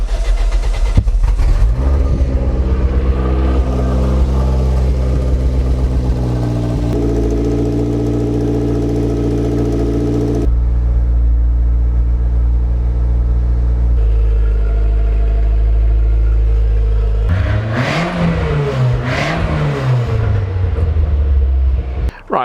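A Toyota MR2 engine cranks and fires, then settles into a steady, loud, close idle with a slight change in pitch partway through, ending with a few rising and falling revs.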